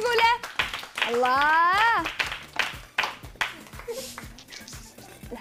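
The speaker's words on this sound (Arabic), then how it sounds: "صفقوا حق حاولني على هالقرعة الحلوة" Children clapping for a boy in a kids' studio show: scattered hand claps come in bursts through the middle and end, mixed with lively children's voices and an adult talking.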